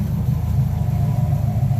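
Car engine idling steadily right after starting on an older car with a new starter: loud, close, continuous low rumble with no talk.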